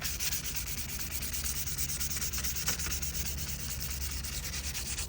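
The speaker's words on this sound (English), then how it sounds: "So let's get to the sanding." Steady, continuous abrasive rasp of sanding old paint on a Kenworth W900 truck, close and even, with no talking.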